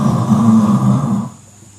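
A voice imitates snoring, a single drawn-out rasping, throaty snore held for over a second before fading, close and loud with no other talk.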